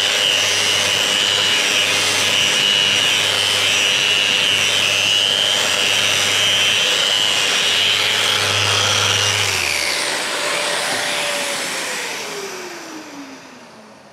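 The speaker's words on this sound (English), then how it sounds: "Now we can sand to a fine finish." Loud, continuous whir of a random orbital sander with silicon carbide abrasive on a foam-backed pad, dust extraction pulling through it, rubbing steadily against wood before the motor winds down and fades near the end.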